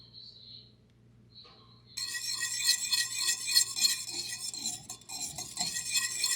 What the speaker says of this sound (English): I'm going to stir that into my hot syrup until it's completely melted